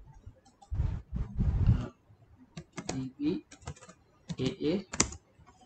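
Typing on a computer keyboard while writing JavaScript code, with bursts of close, rapid key clicks separated by short pauses and no talk over it.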